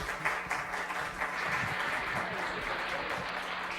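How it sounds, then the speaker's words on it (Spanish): Listeners applaud at the end of a lecture on epigenetics, a fairly faint, distant wash of clapping from the audience that continues evenly for a few seconds. "Sí, se vale aplaudir."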